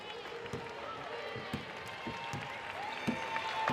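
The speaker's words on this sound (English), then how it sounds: "The applause already starting here inside El Choli Arena in San Juan, Puerto Rico." Arena crowd at El Choli Arena in San Juan, Puerto Rico, near the end of a Spain versus USA basketball game, with scattered claps and cheers building under squeaking sneakers, court noise and a commentator talking.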